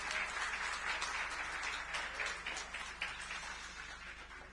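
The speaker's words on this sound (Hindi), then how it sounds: "चाहूंगा एक बार जोरदार तालियां" An audience at a district public forum on industry and trade in Raipur claps steadily, a full, even wash of applause that fades slightly toward the end, heard at moderate distance without speech.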